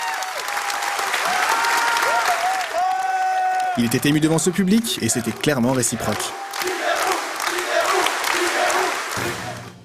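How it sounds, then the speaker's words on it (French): A long, loud ovation for Shigeru Miyamoto from a packed masterclass audience: sustained applause and crowd cheering, with shouts and whoops rising through it. Someone speaks over the crowd for much of the time. "très longs applaudissements"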